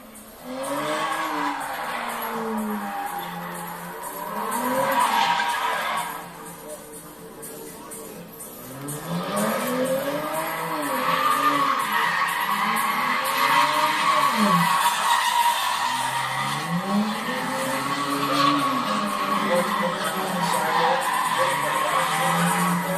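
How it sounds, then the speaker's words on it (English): A Kia Stinger GT doing donuts and drifts on a racetrack, engine revving in long rising and falling sweeps with tire squeal, loud and continuous, with a brief dip midway. "a little audio of me on the racetrack doing some donuts and drifting and stuff in the Kia Stinger GT"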